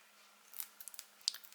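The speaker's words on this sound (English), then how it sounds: "Different pair of scissors." A few crisp snips from dimensional scissors cutting card, close and fairly quiet, spaced irregularly with brief pauses between cuts.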